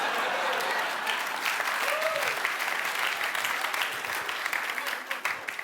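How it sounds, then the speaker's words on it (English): A comedy club audience applauds a stand-up comedian with sustained, fairly distant clapping that carries on throughout, with a few louder claps near the end. "Thank you for applauding."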